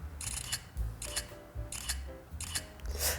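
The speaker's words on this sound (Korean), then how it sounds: "자 그냥 찍는 소리 그리고 연사로 찍는 소리" An iPhone XS camera fires its shutter, first as single crisp clicks and then as a rapid burst. Several sharp mechanical snaps come at fairly regular intervals, close and clear, with no talking.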